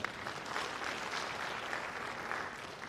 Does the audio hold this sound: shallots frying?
no